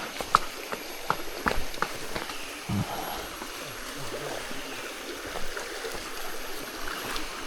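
A mountain river rushes steadily near a jungle camp on Gunung Tahan, its constant wash heard up close while hikers cross, with occasional footfalls and knocks over the flowing water.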